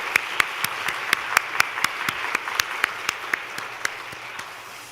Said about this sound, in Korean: 우리 청년 장년 우리 서로를 축복하면서 다시 한번 박수하겠습니다